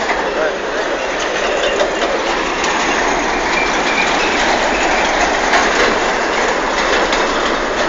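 A railway wagon rolls through a tunnel near Reserva, Paraná, with a loud, steady roar of wheels and rhythmic metallic clatter filling the enclosed space, close and continuous.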